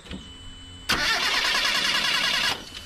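Proton Wira car engine cranking and catching, a hot engine with a fault that makes it cut out, firing at about the one-second mark into a loud, busy rumble that runs steadily before cutting off abruptly near the end.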